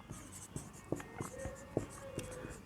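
Pen writing on paper during a maths lesson, a close, quiet series of short scratching strokes and taps in an irregular rhythm over a steady low room hum.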